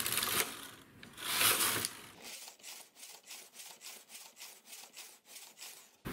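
Double-bed knitting machine carriage knitting glove finger rows, broad swishing passes at first followed by a regular series of rhythmic rasping strokes, close and moderately quiet with no talking.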